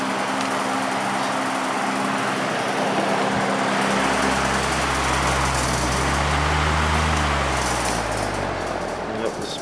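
A vintage first-generation Lakewood HV fan with a Westinghouse or GE motor runs on low speed, giving a steady, loud whirring hum with a shifting tone that rises partway through, under a broad wash of air noise.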